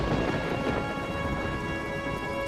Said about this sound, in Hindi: सुबह हो चुकी थी, लेकिन बारिश अब भी तेज बरस रही थी।